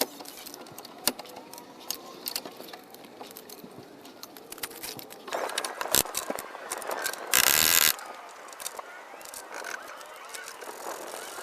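A ratchet clicks in quick bursts while snugging oil pan bolts on a Chevy Silverado 6.0 4WD, close and metallic, with a brief louder mechanical burst midway.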